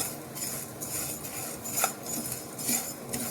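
A spoon scrapes and clinks against a pan while grated coconut and a spice mix are roasted over a low flame. The scraping comes in irregular bursts, close and clear, with no speech.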